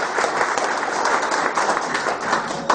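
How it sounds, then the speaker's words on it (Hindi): A crowd of staff at a company Holi celebration claps loudly and steadily, a close, dense burst of many hands with slight surges in intensity. "एक बार जबरदस्त अपने लिए तालियां बजाओ।"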